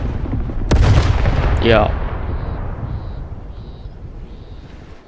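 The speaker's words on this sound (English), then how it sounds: "A Protectorate transport? Yeah, it's gonna explode in a minute." A Protectorate transport in the video game Outer Worlds 2 blows up in a loud, close explosion: a sharp crack followed by a heavy rumble that slowly fades. A voice speaks briefly near the start.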